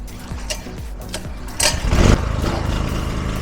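A petrol generator is cranked and starts, its engine catching after a couple of pulls and settling into a loud, steady close-up running drone.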